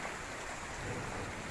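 Rain during Tropical Storm Zeta in Jamaica, a dense, steady hiss of falling rain with breeze, even and unbroken throughout.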